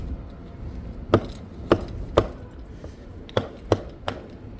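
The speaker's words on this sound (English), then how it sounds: "It's a loose board. That paver needs to be glued back down." A loose paver board on a walkway at Portofino Bay Resort in Orlando clatters when stepped on, giving six sharp, hollow wooden knocks at uneven intervals over quiet background noise.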